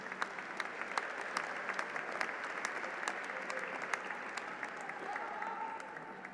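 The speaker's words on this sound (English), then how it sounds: "Huge round of applause, ladies and gentlemen, for the graduates of the Pharmacology and Toxicology program." At a 2022 University of the Sciences commencement, the audience applauds the Pharmacology and Toxicology graduates with steady, moderately distant clapping in a large hall, even in density, with sharper individual claps standing out and a faint whistle near the end.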